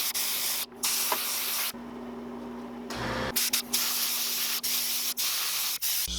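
Bursts of aerosol spray hiss steadily onto a jointed jerkbait fishing lure being painted pearl white and gold, close and continuous with a few short pauses.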